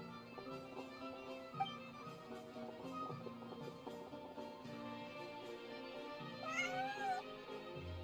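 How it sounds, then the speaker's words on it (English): A Northland cat in a video game gives a short rising meow near the end, heard over a soft melodic music background. "Northland cat."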